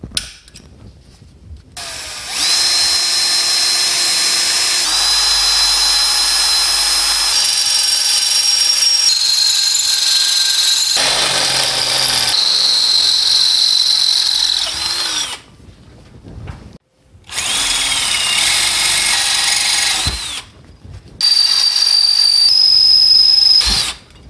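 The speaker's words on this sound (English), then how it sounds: "I need to drill some holes in the top here for the support mounts." A power drill whirs in several long, loud bursts, drilling holes in a Moke's gear selector mounts, its pitch shifting as it bites, with brief pauses between holes.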